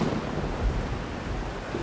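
Storm at sea in the pirate sailing game Age of Pirates: Caribbean Tales, with a continuous rush of wind and crashing waves, fairly loud and surging unevenly, no voices.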